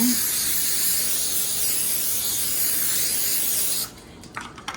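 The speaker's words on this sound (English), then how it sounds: "butter spray" A butter spray can hisses continuously for about four seconds at close range, then stops, followed by a few quiet handling clicks.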